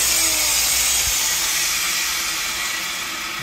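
Angle grinder cutting through a steel gate cable, giving a loud continuous high-pitched hissing whine close by, with a brief low thump early on.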